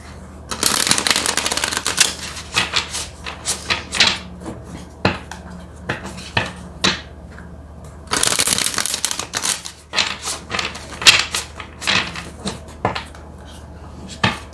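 Tarot cards are shuffled close up in two long bursts of rapid riffling and slapping, separated by quieter taps and pauses, with no talking.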